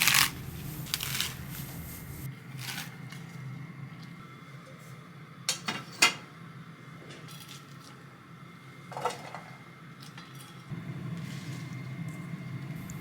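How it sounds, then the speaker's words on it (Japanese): A kitchen knife slices a bunch of komatsuna greens into roughly 5 cm lengths, making a handful of sharp, separate chops and taps on a cutting board, spaced irregularly with quiet pauses between them. "小松菜1束は5センチ程度の幅に切ります。"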